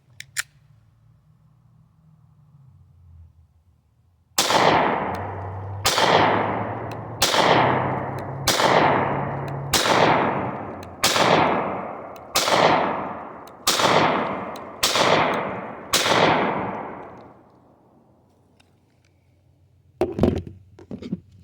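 A Canik Mete MC9 pistol fires at a shooting range, with about ten loud, evenly spaced shots, each one followed by a ringing echo that dies away. Another shot sounds after a pause near the end, and no one talks.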